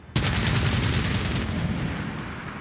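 Gunfire in the video game Medal of Honor: Warfighter: a sharp onset opens a loud, sustained burst of automatic fire that rattles on steadily and fades slightly toward the end.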